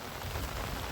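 Heavy rain falls on a farm field, a dense, continuous hiss of drops hitting the surface, steady and fairly loud for a brief moment.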